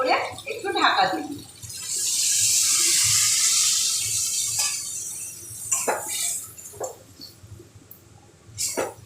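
Water pours into a pot of finely chopped potatoes for a Bengali potato bhorta, a steady splashing rush lasting a few seconds between clinks of the pot and a faint voice.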